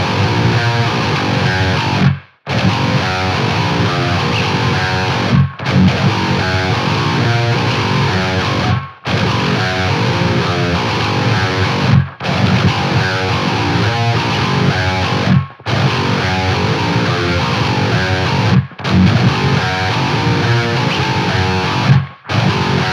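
An eight-string electric guitar plays through heavy distortion: a dense, loud, continuous wall of low riffing broken by brief silent gaps every few seconds, with no voices.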